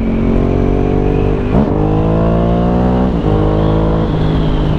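Ducati Hypermotard 1100 Evo motorcycle engine running loud and close, holding a steady rumble with a couple of sharp throttle blips that briefly raise the revs before settling back.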